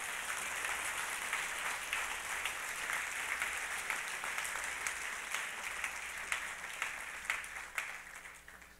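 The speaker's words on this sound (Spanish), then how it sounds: "Dele fuerte el aplauso al Señor." Church congregation applauding during a sermon, a long steady wash of many hands clapping at a distance, fairly faint and sustained for nearly nine seconds without speech.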